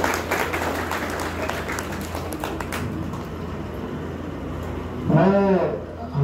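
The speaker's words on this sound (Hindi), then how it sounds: "अपने खुद के लिए जोरदार ताली बजाइए।" Parents at a guidance and counseling session at H.A.L. Ojhar, Nashik give themselves a loud, sustained round of dense clapping that fades out partway through, followed by a brief spoken voice.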